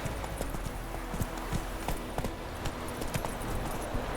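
Horse hooves clip-clopping at a steady trot in The Witcher 3 video game, a rapid regular patter of hoofbeats over a dense background of ambient game sound and wind.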